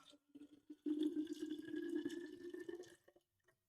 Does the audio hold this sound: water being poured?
yes